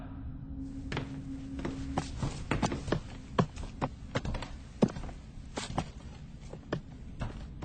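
Four people climb a staircase together, their footsteps a steady run of sharp, close taps and thuds, sometimes overlapping, with no talking.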